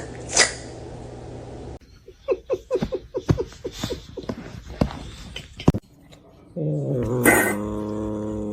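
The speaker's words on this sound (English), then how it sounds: "I was petting my neighbor's cat when suddenly." Neighbor's cat being petted, giving low growls and hissing bursts in a short series, close to the mic, with human voices and a brief laugh around it.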